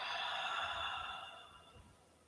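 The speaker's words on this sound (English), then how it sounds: "I breathe out." A single long exhale during a yoga twist, a soft breathy rush that fades out over about two seconds, close and alone.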